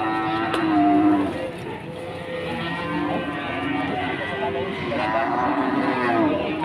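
Pregnant Simmental cattle lowing repeatedly over a steady outdoor background at a cattle market, with people talking at moderate distance underneath the moos.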